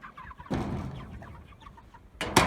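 Chickens cluck softly nearby in a scattered series of short calls, with bursts of rustling noise at the start and end.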